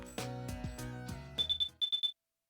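Electronic beeps from the Persona 4 video game, a quick series of six high, evenly spaced chirps in two groups of three, following a few louder game tones and under no talk.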